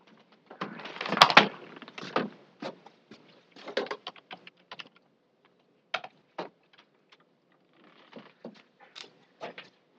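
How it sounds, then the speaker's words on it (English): Computer keyboard typing at a board of health meeting, heard as irregular bursts of clicking keystrokes with pauses between them, fairly close and with no talking. "Oh, where's my keyboard?"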